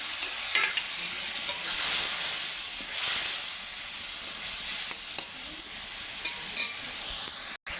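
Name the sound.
koi fish frying in spice paste with a little water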